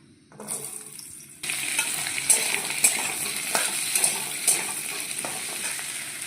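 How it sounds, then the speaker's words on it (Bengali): Potatoes for posto go into leftover pakora frying oil, a sudden loud sizzle bursting up after a quieter moment, then steady crackling frying with occasional sharp clicks of a utensil stirring. "পকোড়া ভাজার তেলটার মধ্যেই আমি এবার পোস্তর আলুটা ভেজে নেব"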